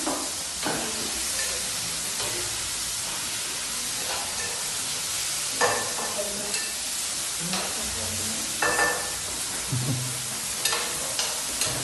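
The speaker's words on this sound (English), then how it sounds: "This is the kitchen where our Indian students are cooking." Cabbage frying on an electric stove in a student hostel kitchen gives a soft, continuous sizzle, broken by intermittent scraping and clinking as the pan is stirred, with faint voices in the background.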